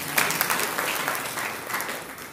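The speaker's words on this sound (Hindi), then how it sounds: "हाँ, ताली बजा दो।" An audience claps at a spiritual discourse, giving a brisk burst of applause that starts strongly and slowly thins out over a couple of seconds.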